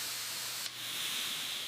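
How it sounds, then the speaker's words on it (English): Steam hissing steadily against a wooden boat rib being softened for bending on a 1920s-style wooden boat restoration, a broad constant hiss with a brief dip partway through and no talk. "we have to steam the wood until it's as flexible as leather"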